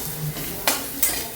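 Spice paste fries in hot oil as fresh curry leaves are added, giving steady sizzling with two sharp crackling bursts and a light scrape of stirring.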